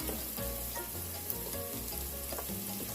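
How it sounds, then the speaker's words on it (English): Harder vegetables for Caribbean spinach callaloo sautéing in a pan, a steady close sizzle and crackle with light stirring, continuous and without talk. "Saute this for another minute or two,"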